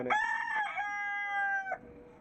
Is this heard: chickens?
yes